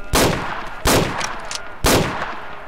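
Shoulder-fired RPG rocket launcher, three loud, sharp blasts about a second apart, each with a short booming decay, close and with no talking.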